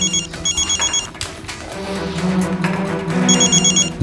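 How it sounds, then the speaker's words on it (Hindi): A telephone rings in a Hindi crime drama scene, a repeated electronic bell pattern of short bursts, loud and close, under a swell of dramatic background music. "मम्मी का फोन।"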